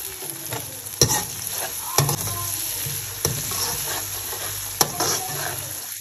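Masala sizzles steadily in a pan, with periodic sharp taps and scrapes of a spoon stirring through it, close and moderately loud, with no voices.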